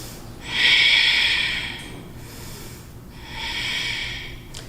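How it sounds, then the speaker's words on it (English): Slow, deep breathing during a yoga flow: two long, close airy exhalations through the nose, each lasting over a second, separated by a quieter pause. "Breathing."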